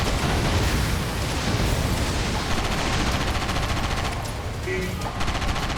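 Dense, continuous gunfire and booming blasts in the video game Sand Land, a loud unbroken barrage that fills the whole stretch.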